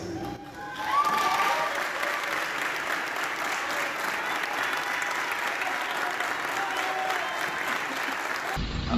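Sustained applause fills a legislative chamber after a law passes with 76 votes, a dense steady roar of many hands clapping at close range that holds evenly for several seconds before cutting off abruptly.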